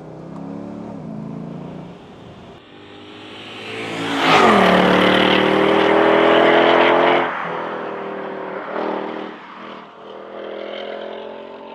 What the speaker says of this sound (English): Get a little exhaust burble there as well.